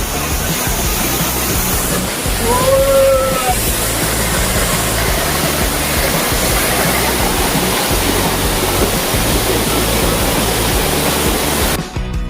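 A waterfall roars in a steady, broadband rush that stays loud and continuous throughout, with a faint brief whistle-like tone early on and a sudden cutoff at the very end.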